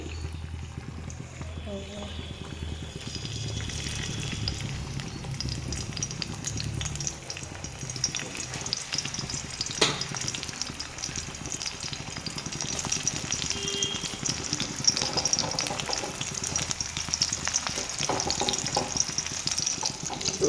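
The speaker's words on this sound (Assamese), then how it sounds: "তিয়হ ভাজি কৰিম" Cucumber frying in a pan for a pre-dawn Ramadan meal, a soft continuous sizzle with clinks and stirring, under intermittent low talk.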